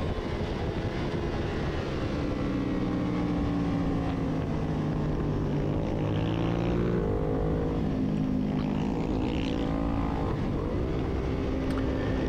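A Suzuki SV motorcycle races in a novice Formula 3 club road race, its engine a loud, continuous drone with pitch sweeping up and down as it passes close by, amid a dense wash of other machines.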